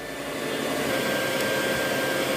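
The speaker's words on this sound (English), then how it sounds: "As this beauty sits under the dryer, remember my goal is only to dry the scalp." A hair dryer blows on a person's curly hair, making a loud, continuous whooshing whir with a steady high whine and no voices.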